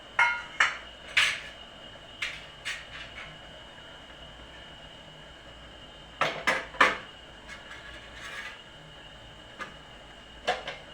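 A plate being taken out and set down in a home kitchen while fasting bhagar is served: sparse, sharp clinks and clatters of crockery separated by quiet gaps.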